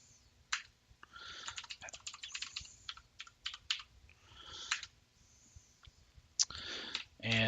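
Password typed on a computer keyboard during a Kali Linux install, close, quiet bursts of key clicks in irregular clusters with short pauses between.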